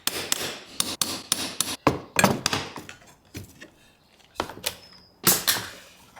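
A hammer taps a centre punch against copper pipe held in a jig, giving an irregular series of sharp close metallic knocks, some in quick clusters, with brief pauses between.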